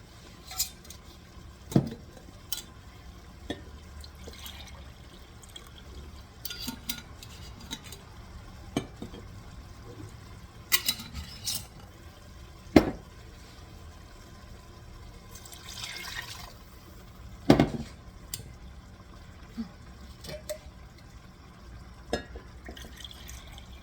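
A spoon stirs and scrapes a pot while deglazing with added liquid for chicken smothered in black beans. Quiet sloshing is broken by occasional sharp clinks of utensil against metal.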